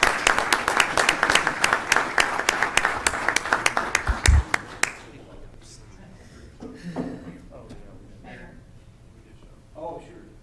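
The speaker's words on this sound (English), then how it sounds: "Can we give these guys a round of applause?" A round of applause for city staff at a city council meeting, brisk clapping from a small group that lasts about five seconds and stops, followed by scattered talk and room noise.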